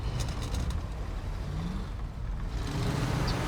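A scout truck engine in SnowRunner drives a long stretch, a steady low rumble holding throughout, with faint mechanical creaks and a slight rise in revs near the end.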